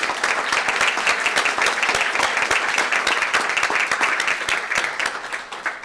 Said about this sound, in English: So I get to be the first to have a round of applause for this group.